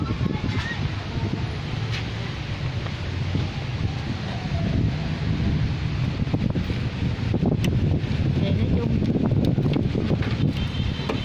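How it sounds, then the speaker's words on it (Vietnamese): Cold wind blows outdoors in a steady, broadband rush with gusty buffeting on the microphone, continuous throughout while someone walks home. "gió thổi rất là lạnh"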